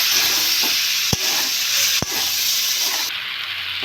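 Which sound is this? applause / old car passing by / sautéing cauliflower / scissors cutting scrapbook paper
sautéing cauliflower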